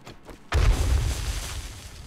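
Landmine explosion in the video game 7 Days to Die: a single loud, sudden boom with a heavy low-end thump, then a rumbling decay that lingers.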